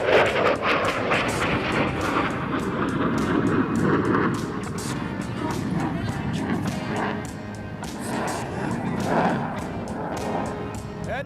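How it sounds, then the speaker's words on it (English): An F-16 fighter jet performing a 4-point roll at a London, Ontario airshow, a loud, continuous roar of jet engine noise with rumbling surges throughout, steady and fairly close. "In from the left, the F-16 and the 4-point roll."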